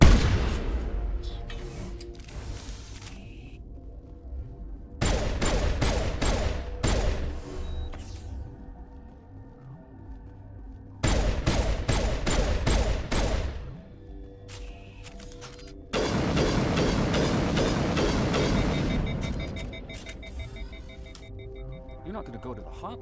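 Gunfire in the Mass Effect Legendary Edition video game, heard as repeated bursts of sharp, loud shots in rapid clusters separated by quieter gaps, set over a busy game soundtrack.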